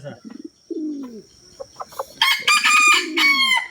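A hill rooster at a market gives a loud, close crow near the end, with several short clucks earlier and a few softer calls from other fowl in between.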